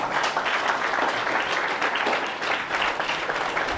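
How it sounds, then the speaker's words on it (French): An audience claps together at a scholarship award ceremony, sustained dense applause held at an even level for a few seconds, heard up close. "Donc on peut applaudir pour cette jeunesse qui lit."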